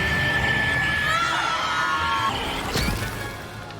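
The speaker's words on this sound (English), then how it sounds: "She makes us pull out plants that scream really, really loud" Screaming plants pulled from their pots in a Hogwarts video game let out a loud, shrill, wavering wail that holds for about three seconds, then breaks off with a brief crash and fades.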